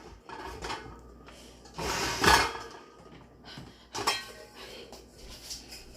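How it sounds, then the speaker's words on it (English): Someone washes a rice cooker pot, with intermittent metallic clanks, knocks and scraping. The handling runs in short bursts with quieter gaps, close and fairly faint, and no talking. "I'm gonna wash this pot, and we're gonna put some rice on it"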